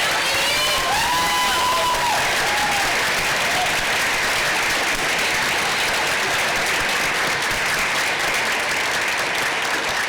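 School board meeting audience gives sustained, loud applause for scholarship winners, with a few cheers and whoops near the start, steady clapping filling the room to the end.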